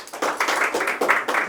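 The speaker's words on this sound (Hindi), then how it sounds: "बहुत अच्छा, ऑल राइट हुआ। ताली।" A classroom of students claps for a classmate, a short burst of rhythmic hand claps, fairly close and steady, with no talking.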